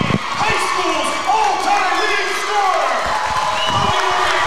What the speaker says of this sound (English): You hear it from the crowd.